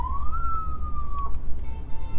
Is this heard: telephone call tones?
no